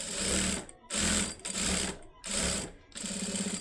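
Sewing machine running stitches along a seam of a joined garment piece, in four close, loud bursts of steady rapid whirring separated by short pauses.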